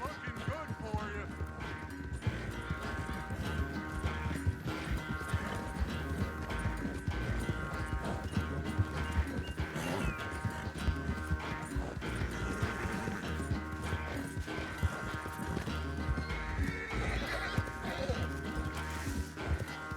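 Horse galloping in Red Dead Redemption 2, a rapid steady clip-clop of hooves running throughout, mixed with game music and ambience.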